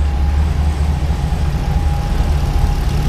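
A Plymouth rat rod engine idles steadily and loud, a low continuous rumble with a faint constant whine above it, smooth and unchanging throughout.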